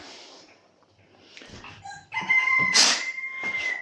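A rooster crows loudly and close, its drawn-out call following a few seconds of quieter rustling and faint clucks.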